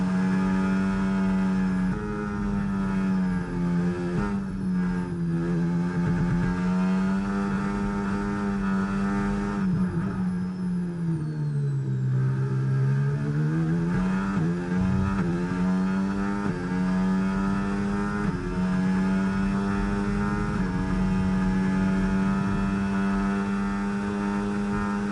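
F1 race car engines, an Aston and an Alpine, in a racing game at Miami, whining in a loud, sustained high-revving drone that dips as they brake for a corner and climbs again on acceleration, with no talk.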